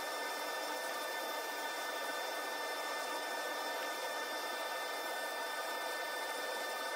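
Rotary power carving bit smoothing wood on a walking stick, a constant high-pitched whirring grind with a faint tonal whine, steady and unbroken at close range with no speech.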